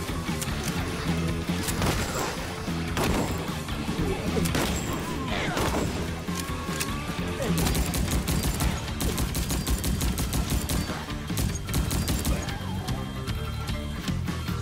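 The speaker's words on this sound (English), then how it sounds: "those combinations of shotgun and machine gun are chewing through my ammunition considerably faster" Rapid bursts of shotgun and machine gun fire fill a hectic video game firefight, with dense, continuous overlapping shots and impacts throughout, loud and close.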